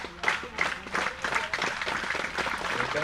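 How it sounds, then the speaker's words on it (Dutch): Spectators clap their hands at a pole-vaulting event, keningsljeppen in Burgum; steady, dense clapping from a crowd, moderately loud and continuous, with a few people talking underneath. "de meesten klappen de handen warm."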